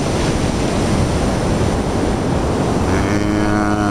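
Ocean surf rolls in at Pismo Beach at night, a loud continuous wash of breaking waves with wind buffeting the microphone and a faint hum rising near the end.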